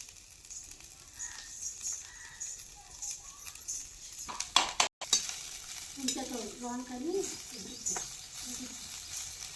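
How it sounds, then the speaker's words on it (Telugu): Coriander leaves wilting in a little oil with green chillies for a coriander chutney, giving a soft, low sizzle with a few sharp scraping clicks near the middle and a brief voice toward the end. "కొత్తిమీర కూడా మగ్గించుకుంటున్నా ఇందాక మిరగాయలు వేసుకున్నాం కదా దాంట్లోనే కొంచెం ఆయిల్ వేసుకొని మగ్గించేసుకున్నాం"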